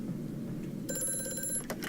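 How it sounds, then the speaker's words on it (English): A telephone rings in the horror video game Amnesia: A Machine for Pigs, a single short metallic bell trill that sounds clearly over a low ambient drone before stopping abruptly. "Ah, phone."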